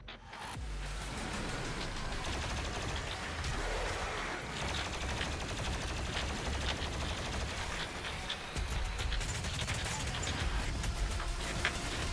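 Dense automatic gunfire from DOOM Eternal rattles on almost without a break, loud and close, mixed with a rumbling game soundtrack and explosions.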